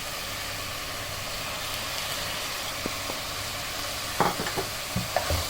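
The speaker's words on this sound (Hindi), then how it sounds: "अब 2 से 3 मिनट तक के लिए इसको इस मसाले के साथ भून देंगे।" Minced meat (keema) fries with spices in a pan over a steady broadband sizzle, with a few sharp scraping stirs near the end and no voices.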